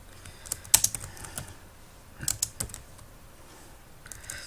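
Computer keyboard typing in scattered bursts of quick clicks, with brief pauses between runs of keystrokes, close and fairly quiet with no talking.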